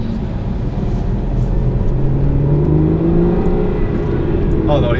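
An Aston Martin DBS engine hums and revs steadily, rising slightly in pitch while driving through narrow streets, loud and close for the whole stretch.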